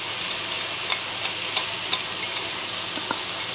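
Mushrooms with garlic and spinach cooking in a pan for stuffed mushrooms, giving a steady, close sizzle and hiss broken by a few faint pops and soft stirring clicks, with no voices.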